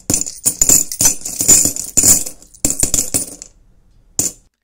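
A rapid run of coins clinking and jangling as they drop into a money box, metallic and close, then one last clink after a short pause.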